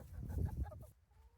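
A homestead chicken gives a short burst of close clucking that quickly fades into quiet.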